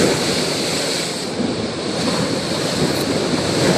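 Strong ocean waves roar continuously and loudly, a dense wash of surf with wind buffeting the microphone and no voices.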